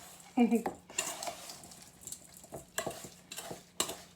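Pie filling with lemon juice being stirred in a bowl: scraping swirls and light clinks of a utensil, in several short near strokes.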